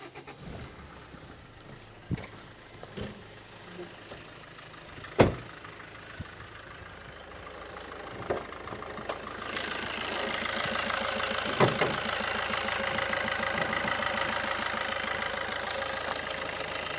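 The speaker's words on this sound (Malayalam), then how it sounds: "വണ്ടിയുടെ എൻജിൻ്റെ വർക്കിംഗ് ഞാൻ കാണിച്ചു തരാം" A Maruti Ciaz diesel car engine idles with a low, steady rumble, preceded by scattered clicks and knocks before the running sound swells and holds at a moderate, even level for the latter half.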